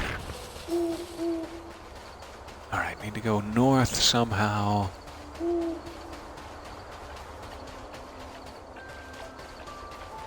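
Owl hooting in the video game Death's Door comes in short repeated calls, loud and close, before and after a stretch where someone talks over the game's ambience.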